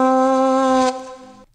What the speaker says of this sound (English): Let's hear the saxophone version first.